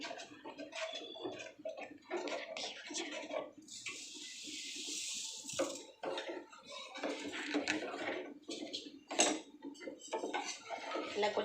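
A spoon stirs milk, ragi malt and sugar in a pot, making repeated light clinks and scrapes against the metal in an uneven rhythm, with a brief hiss in the middle.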